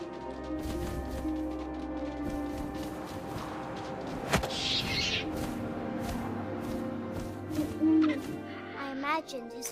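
An owl in the video game What Remains of Edith Finch gives a single hoot over soft wind and scattered thumps and whooshes of game ambience, with no talk.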